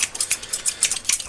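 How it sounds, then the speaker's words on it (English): Quick, crisp double-scissor snips cutting hair at a barber shop, about ten rhythmic close-up clicks in fast succession with no talking. "here at Steve's Barber we do the double scissor technique"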